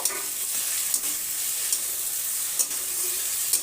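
Roasted ground cumin is stirred into ash gourd frying with shrimp, a steady soft sizzle of oil with faint scraping of a spatula against the pan and a few light clinks.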